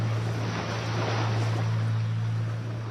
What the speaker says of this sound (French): Le moteur ralentit.